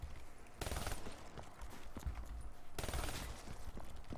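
Bursts of gunfire in Black Ops 3 Zombies, a dense rattle of rapid shots in two loud volleys with scattered single cracks between, no voices.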